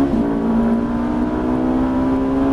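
A Ferrari F458 sports car engine roars at sustained full throttle on a race track, a loud, steady droning howl with a constant pitch throughout.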